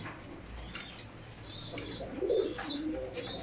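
Pigeons in a pigeon loft give soft, low cooing calls, a few rolling coos near the close, with faint chirps and background hiss and no speech.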